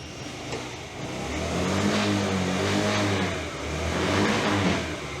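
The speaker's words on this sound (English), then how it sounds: "I might just rev it a little bit now so you can hear just how loud they are." A SYM Shark 50cc carburetor scooter engine revs indoors, rising and falling in two loud, buzzy throttle swells over a steady idle, close by with no talking.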